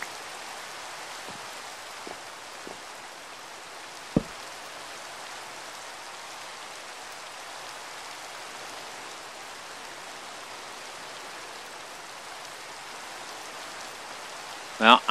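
Steady rain in the video game Minecraft forms an even, continuous hiss of falling water, with a few faint isolated ticks and a brief louder blip at the very end.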